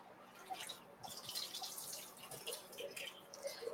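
Liquid drains from a container of pickled grapes, a faint, irregular trickle with scattered small drips over a quiet kitchen background.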